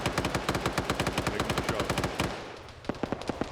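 Rapid automatic gunfire in a video game match: bursts of sharp, evenly spaced shots rattle close and loud, pause briefly, then resume with a few separate cracks.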